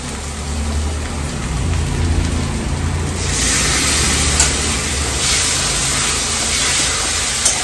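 A little water splashed into a hot frying pan with dry cumin powder, bursting into a loud hissing sizzle partway through that stays steady and close, with no talking.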